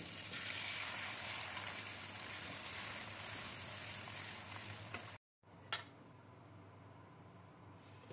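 Chopped tomatoes frying in a pan for dhaba-style dal chana give a steady close sizzle for about five seconds, then a brief cut to silence and a quieter hiss with a faint clink.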